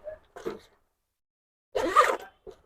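Double zip on a handbag pulled in quick strokes: two brief zipping rasps, a pause, then a longer, louder sweep and a final short tug, crisp and close in a quiet room.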